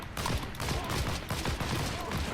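Gunfire from the online World War II shooter game Heroes & Generals: a dense fusillade of rapid shots at steady, loud level throughout, with faint talk underneath.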